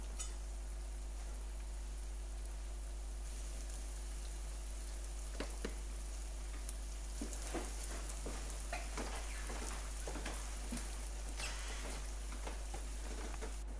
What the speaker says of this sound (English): Gently fry till a dark golden brown.